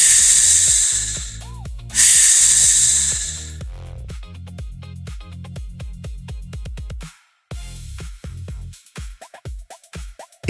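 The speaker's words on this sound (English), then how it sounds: "It's a snake" A snake hisses in two loud, breathy bursts near the start, each lasting about a second, followed by light background music with no talking.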